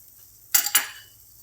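Moong dal halwa with sugar and cardamom powder being stirred in a pan, two quick scraping clinks of a spoon against metal, close and loud, then quiet.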